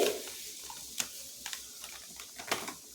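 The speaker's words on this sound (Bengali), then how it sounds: "সুজিটাকে ভালো করে ভেজে নেব জাস্ট এইভাবে আমি সুজিটাকে পাঁচ মিনিট ভেজে নেব" Semolina frying in hot ghee in a pan, a faint, soft sizzle broken by scattered light scrapes and taps of stirring, close and quiet, with no talk.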